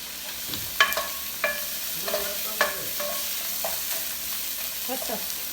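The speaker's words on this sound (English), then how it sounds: "I'm making egg rolls" Egg rolls frying in a pan, a steady close sizzle with intermittent stirring scrapes and light utensil clinks scattered throughout.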